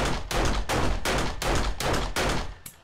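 Rapid gunfire from a weapon shooting at a vending machine in 7 Days to Die, a fast, regular series of about seven loud close shots over a few seconds with no talk.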